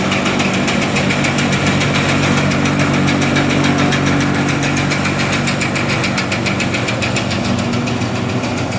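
A rebuilt Clipper M2BC seed and grain cleaner with ball trays runs steadily, its eccentric shaft turning, giving a loud, continuous mechanical rumble with a fast, even rattling vibration throughout.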